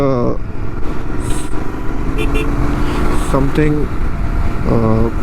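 Royal Enfield GT 650 motorcycle with a Red Rooster exhaust and baffle fitted, its steady engine rumble and road noise running continuously under a rider's talking.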